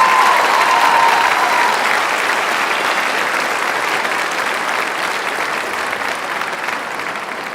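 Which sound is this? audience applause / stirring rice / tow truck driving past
audience applause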